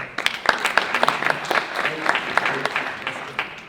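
A fundraiser audience gives a round of applause for a woman, steady claps with sharp individual hits over a murmur of voices, fairly close and even throughout.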